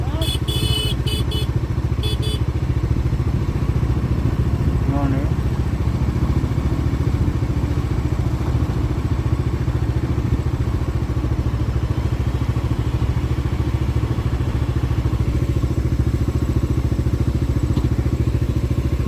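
Dominar 400 motorcycles ride through a water crossing near Pangong Lake in Ladakh, a steady loud engine drone with clatter and splashing throughout.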